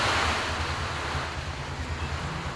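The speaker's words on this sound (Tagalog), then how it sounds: "palakas na ng palakas ang hangin at saka ang ulan guys" Strong typhoon wind and rain lashing outside a home as a river rises, a dense continuous roar with gusty low rumbling buffeting the microphone, loud and unbroken, with no voices.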